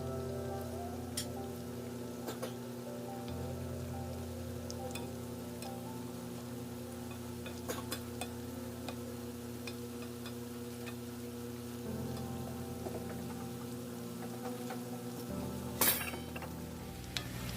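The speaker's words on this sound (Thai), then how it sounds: "นี่ก็จะเอาลงทอดทีเดียวพร้อมกันหมดเลยนะคะ" French fries frying in hot oil in a pan: a steady, soft sizzling hiss that runs throughout, with occasional light clinks and stirring sounds over a low background hum.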